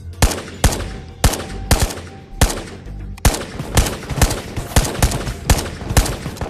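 Gold AK rifle firing in the VR game Ghosts of Tabor, a loud close run of sharp shots in short bursts and rapid single cracks, steady rhythm with brief pauses.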